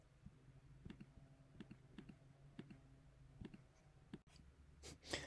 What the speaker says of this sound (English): you've probably heard me clicking furiously away because for whatever reason, the button is not activating the stop recording